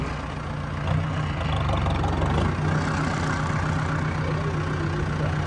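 A Kubota tractor engine runs steadily nearby, a loud continuous low rumble with a firm, even firing beat that holds throughout with no talking.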